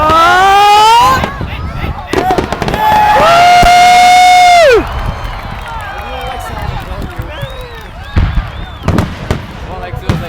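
Loud whistling Canada Day fireworks shriek upward and pop while a crowd shouts and cheers nearby.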